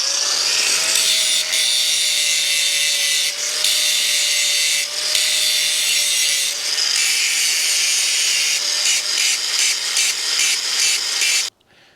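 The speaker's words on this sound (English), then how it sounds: "I just had to grind this back a little bit so it looks better" A grinder works back a steel hitch plate with a loud, harsh, high-pitched grinding that runs continuously with brief dips as the tool shifts, then cuts off abruptly at the end.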